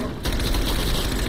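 Rapid automatic gunfire fired through a wall in Call of Duty: Cold War Zombies, a dense, loud, continuous stream of shots.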